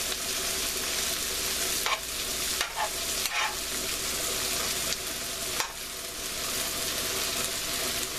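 Vegetables stir-frying in a pan with a little oil for General Tsao's chicken, a steady loud sizzle with scraping stirs and brief clanks of a utensil against the pan, no voices.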